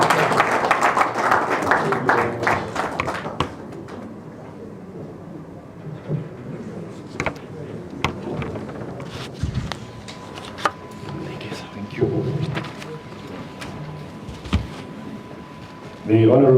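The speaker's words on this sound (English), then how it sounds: "please let's put our hands together as it comes to you" An audience claps at a public book presentation, a loud burst of applause at the start that thins into scattered claps and thumps, with murmuring and background noise across the rest.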